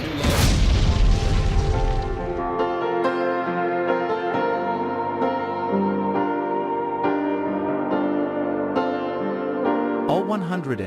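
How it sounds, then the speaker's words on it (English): A China Airlines airliner crashes into houses among fish farms, rice paddies and factories, exploding with a loud broadband boom that decays into a long, dense rumbling roar with steady tonal ringing throughout. "skidded into several houses, surrounded by fish farms, rice paddies, factories, and warehouses, and exploded"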